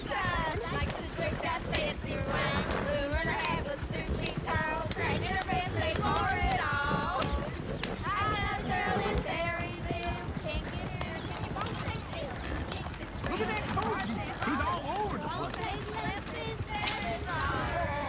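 Horse hooves clip-clopping in the video game Red Dead Redemption, rapid rhythmic hoofbeats running throughout under loud overlapping voices and music, fairly close and steady.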